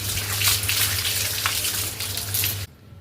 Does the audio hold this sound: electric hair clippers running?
no